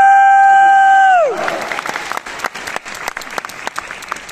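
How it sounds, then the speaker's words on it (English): Audience applause breaks out after about a second and a half, a dense spread of many hands clapping that continues steadily to the end, preceded by a sustained electronic tone that glides downward. "Let's give just a big round of applause."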